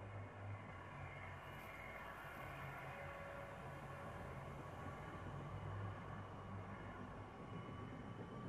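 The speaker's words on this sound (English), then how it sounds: "Train's moving. Better get on it." A moving train in the video game Apex Legends, in the Winter Express mode on PS4 Pro, gives a steady, continuous rolling rumble with low mechanical hum. It holds at an even loudness throughout, with no talk.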